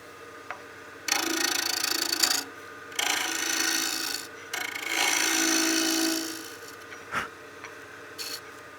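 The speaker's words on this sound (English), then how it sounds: "I'm just going to go ahead and true up this end surface here with my bowl gouge." Bowl gouge truing the end face of a wooden utility box blank spinning on a lathe, heard as several loud rasping cuts of one to two seconds each, separated by brief pauses, close and with no talk.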